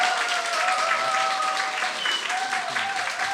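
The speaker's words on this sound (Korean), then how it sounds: "박수해 주시고요." A church congregation claps steadily through a Sunday worship service, medium-loud and even, with faint voices and a tonal sound like singing or an instrument rising over the clapping.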